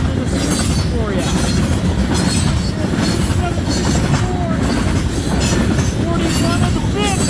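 CN 3409, a locomotive formerly in the BNSF 4900 class, passes at the head of U754 freight train at Ladysmith, WI: loud continuous rolling rumble with repeated high wheel squeals and flange screeches, close by.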